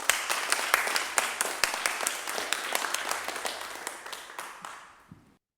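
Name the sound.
applause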